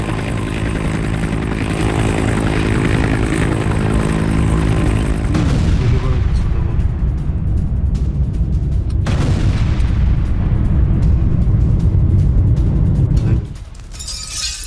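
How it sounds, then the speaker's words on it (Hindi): Explosions and fire roar at a Moscow oil refinery struck by kamikaze drones: a loud, continuous broadband rumble with deep booms, shifting abruptly between sections, with no speech. "कामाकाजी ड्रोन हमलों के बाद रिफाइनरी में कई विस्फोट हुए, कई धमाके।"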